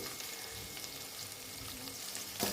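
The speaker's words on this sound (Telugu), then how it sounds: "ఇలా ఆనియన్స్లో మనం ఉప్పు వాడటం వల్ల ఆనియన్స్ తొందరగా ఫ్రై అవుతాయి" Onions sizzle in a pan with rock salt, a soft steady frying hiss with faint stirring scrapes and a brief clatter near the end, heard up close without talk.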